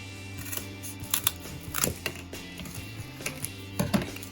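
Scissors snip through a strip of cardboard in a few crisp, irregular cuts close by, with soft rustling of the board being handled between snips.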